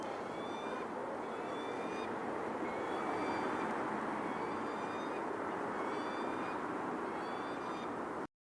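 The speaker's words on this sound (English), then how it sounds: "I think the peregrines are up there because I can hear them." Peregrine falcons call from high above quiet back streets in Higham Ferrers, their repeated sharp cries coming in short bursts from a distance over a steady wash of wind and background noise.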